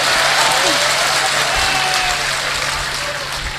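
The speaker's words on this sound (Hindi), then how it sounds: "मुझे एक बार तालियां बजाकर सूचना दे दीजिए" Audience applause at a Hindi kavi sammelan poetry gathering, a steady wash of clapping from a crowd that fades slightly toward the end, with faint voices and a low hum underneath.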